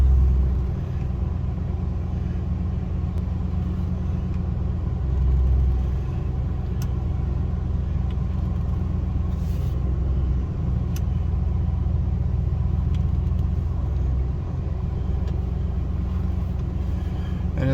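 A 2000 Chevy 2500 Express van's engine idles steadily after its power steering reservoir has been refilled, a continuous low rumble close by with a slight swell midway and no talk.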